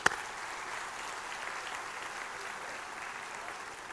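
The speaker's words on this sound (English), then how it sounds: "Give them a round of applause." A crowd at a shipboard show aboard the Disney Magic breaks into steady, even applause that holds throughout, after one sharp clap at the start.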